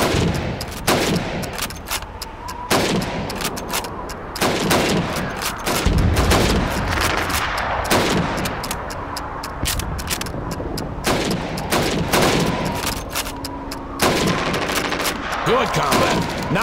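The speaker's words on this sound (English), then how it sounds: "You have 15 seconds to shoot the helmets." Rifle shots crack repeatedly in Call of Duty 2 during a timed training drill of shooting helmets, sharp separate reports landing every second or two, loud and close over faint background.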